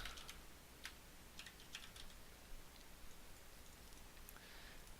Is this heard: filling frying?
no